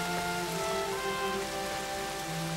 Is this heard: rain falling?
yes